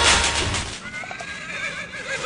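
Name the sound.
horse neighing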